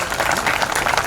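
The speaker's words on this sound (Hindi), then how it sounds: "उन बच्चों के लिए, बर्लिन के लिए एक बार जोरदार तालियां मारिए।" A crowd at a national football event at a SAI sports complex breaks into loud, dense applause in a brief continuous burst.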